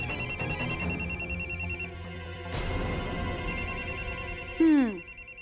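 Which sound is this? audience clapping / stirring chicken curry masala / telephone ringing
telephone ringing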